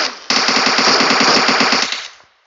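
Loud, close automatic rifle fire in PUBG Mobile, a single continuous burst of about a dozen rapid shots lasting nearly two seconds, then a short fading echo.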